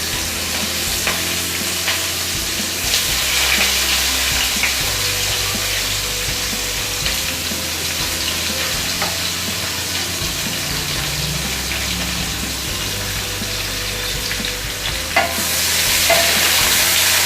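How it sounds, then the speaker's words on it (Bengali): Onions fry in hot oil with cloves and cinnamon for chicken curry, a loud, continuous sizzle with spatula stirring and scraping throughout, swelling briefly near the end. "পেঁয়াজটা ভালো করে লাল করে ভেজে নেবেন।"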